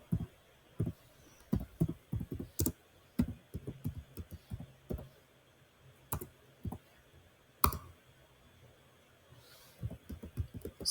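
Typing on a computer keyboard while entering a terminal command, heard as irregular bursts of crisp, close key clicks with brief pauses between runs and no talking.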